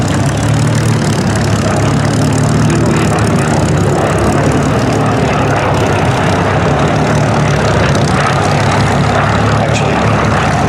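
At the Duxford Flying Legends air show, a propeller warbird roars overhead with a loud, constant drone of engine and airscrew that stays steady throughout, with no voices heard.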